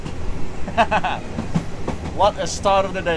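A second-class night train from Bangkok to Chiang Mai rumbles along the rails, with rhythmic clatter and creaks from the carriage while a person talks over it.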